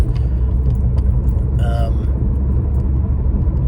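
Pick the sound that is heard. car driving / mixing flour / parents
car driving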